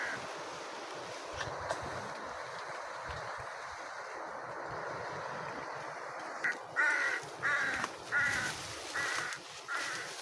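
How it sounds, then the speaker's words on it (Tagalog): Crow cawing angrily outdoors on a windy day, several loud harsh caws in a quick irregular burst near the end after a stretch of wind noise. "Galit na galit yung uwak."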